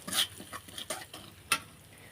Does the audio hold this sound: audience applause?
no